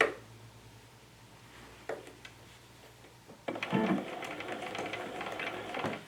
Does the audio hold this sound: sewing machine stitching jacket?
yes